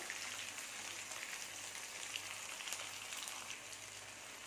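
Green chillies and dried red chillies sauté in hot oil in a pan for a Chettinad chicken gravy, a soft, even crackling sizzle that runs steadily with no voices.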